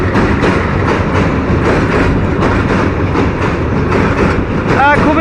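A train passes over a bridge on a morning route toward Mymensingh, with a steady loud rumble and rhythmic clickety-clack of wheels throughout and a brief metallic squeal near the end.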